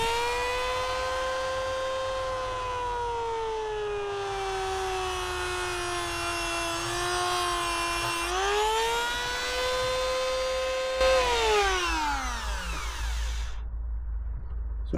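Loud power tool cutting through a VW carburettor bolt, a sustained whining drone that holds steady, dips and rises in pitch under load, then winds down sharply near the end before stopping.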